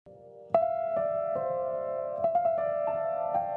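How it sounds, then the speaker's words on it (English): A soft, sustained piano phrase with gently struck notes ringing over one another, slow and wistful, played alone without any voices. "I'm using this kind of melancholy kind of piano noodling thing."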